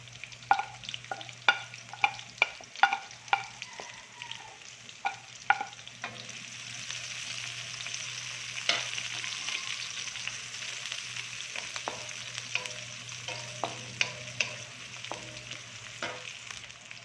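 Onions frying in a pan for pancit bihon. A run of sharp spatula taps and clinks comes first, then a steady, close sizzle with occasional scrapes. No voices are heard.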